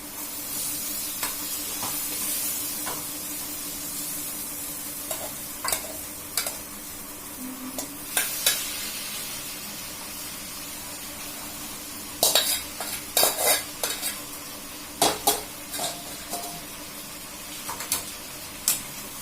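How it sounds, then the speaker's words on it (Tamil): Spicy pasta with onion, tomato and chili, lightly salted, is stirred in a sizzling pan, with a steady frying hiss under irregular clinks and scrapes of a spoon against the metal, busier toward the end. "நல்லா கிளறி விட்டுக்கோங்க, அப்போ தான் டேஸ்ட் நல்லா வரும்."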